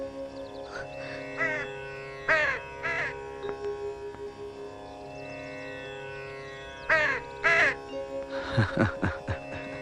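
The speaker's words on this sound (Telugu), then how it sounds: "ఆ కాకులు కావు కావు నరుస్తున్నాయి కదా" Crows caw in a few loud, repeated bursts against a steady musical drone in a film scene, with a busier cluster of calls near the end.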